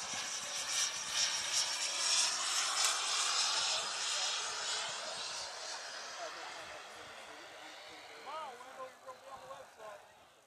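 RC turbine jet model airplane flying with its landing gear down at a fun-fly event, a distant whining turbine roar that fades as it passes, with people talking near the end.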